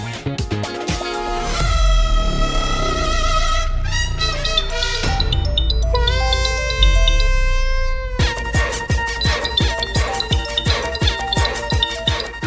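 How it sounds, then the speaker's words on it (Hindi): A phone ringtone plays loudly, a melodic electronic tune with repeating notes that carries on for several seconds. "किसका फोन बज रहा है?"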